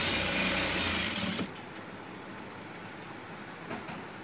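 Sewing machine stitching a thin double-layer cloth face mask, a loud steady mechanical whir up close that runs briefly and then stops, leaving a quiet room hum.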